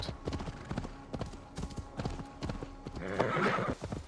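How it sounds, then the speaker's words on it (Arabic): A horse gallops in Assassin's Creed Valhalla, with rapid clip-clop hoofbeats throughout and a whinny near the end, fairly close. "خليني اخد الحصان"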